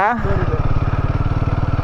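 A motorcycle engine runs close by with a fast, even putter on a muddy backwater track, steady and loud for a moment, with a voice briefly heard over it at the start.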